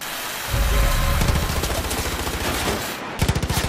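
Automatic gunfire in the video game Far Cry 5, rapid loud bursts of machine gun fire rattling in quick succession, pausing briefly near the end before another sharp burst, with no talk over it.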